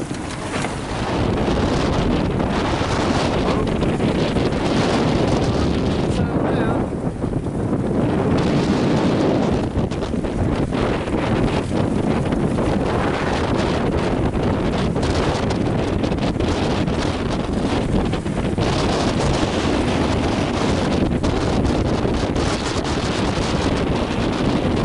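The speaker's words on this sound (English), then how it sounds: "17 knots of wind." Strong wind of about 17 knots roars steadily over the microphone aboard a sailing yacht off Greece and Turkey. The buffeting is loud and continuous, with water rushing beneath it and no voices.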